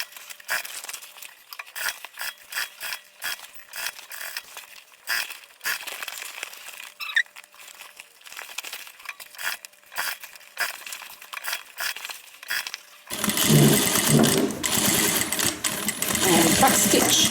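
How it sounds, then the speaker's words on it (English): A sewing machine stitches all the way around a guitar-shaped handbag at a half-inch seam allowance, a busy crackling whir that grows markedly louder and denser in the last few seconds. "I'm going to stitch all the way around."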